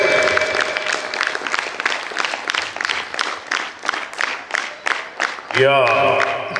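An audience at a karate inter-dojo championship ceremony claps steadily for about five seconds, a dense patter of many hands, before a louder tonal sound cuts in at the end.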